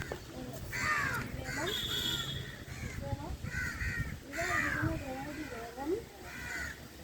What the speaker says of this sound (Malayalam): തേങ്ങ പൊട്ടിക്കുന്നതുകൊണ്ട് കാക്കാണ് എപ്പോഴും വരുന്നത്.